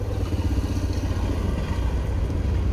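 A motorcycle pulls away through a red light on Avenida Rondon Pacheco in Uberlândia, its engine a steady low rumble heard up close and continuously over ongoing traffic noise.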